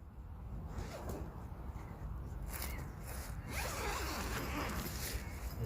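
A cheap zip on a hammock bivvy is pulled open in a long, continuous rasping drag that carries on for several seconds, close up with no talk.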